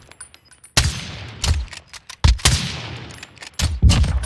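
Rapid gunfire bursts from a battle royale video game firefight, several loud sharp volleys with short pauses between them, up close and with no talking over them.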